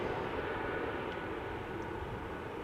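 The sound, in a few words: Sky Express A320neo jet taking off from Schiphol Polderbaan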